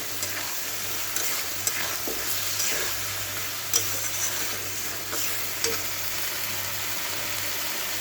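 Spice masala with turmeric fries in a pan for a Bengali fish curry, giving a steady, close sizzle broken by occasional scraping knocks of stirring.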